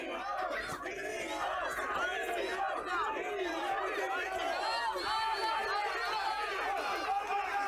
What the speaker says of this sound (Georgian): ხედავთ როგორი გულშემატკივრობაა